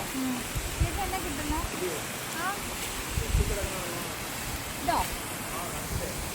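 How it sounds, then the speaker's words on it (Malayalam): River water flowing at the confluence of three rivers at Moolamattom makes a steady broadband rush, with a few faint voices and bird calls coming through now and then. "ആ പുഴയുടെ വെള്ളം ഇതിലൂടെ വന്ന് ഈ പുഴയിലോട്ട് വരും"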